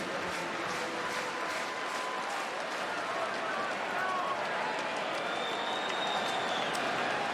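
Baseball stadium crowd at a Cubs game clapping along in a steady rhythm, a broad, even wash of many hands and crowd noise filling the ballpark, with commentators talking over it.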